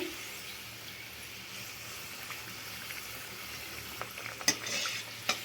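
Potato-stuffed puris frying in hot oil give a steady, soft bubbling sizzle throughout, with a few sharper crackles and pops near the end.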